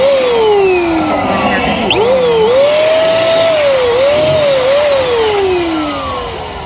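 An electric balloon inflator blows air through its nozzle, a loud, close, steady whirring motor hum whose pitch dips and wavers as balloons load against the airflow, running continuously alone.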